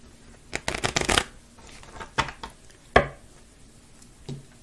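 A deck of tarot cards is cut and shuffled nearby, giving a quick riffling flurry followed by several separate, crisp slaps and taps of cards with quiet gaps between.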